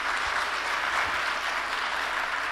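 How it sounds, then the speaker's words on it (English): An audience at a Q&A session with a cricket captain claps in a full, even round of applause, steady and fairly loud from start to end, with no talking over it. "Can we hear a round of applause?"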